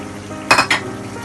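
Prawns cooking in a pan are stirred, giving two quick scraping clinks of a utensil against metal over a faint steady sizzle.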